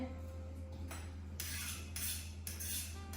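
A kitchen knife chops garlic into small pieces on a board in a home kitchen, giving three or four crisp, quiet knocks spaced about half a second apart over a steady low hum.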